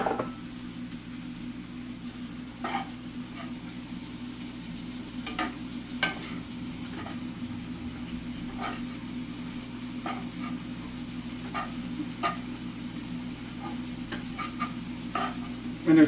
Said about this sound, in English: So make sure that you're stirring really good